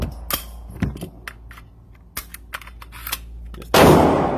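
Ruger P94 pistol fired at a shooting range: a scattering of sharp, close reports at irregular intervals, some fainter shots from other lanes, then a loud burst of noise at the end.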